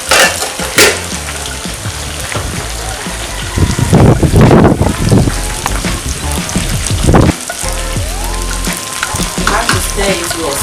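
Tomato paste sizzles loudly as it fries in a pot while Ghanaian jollof rice is being made, with bursts of stirring and scraping over a steady crackle.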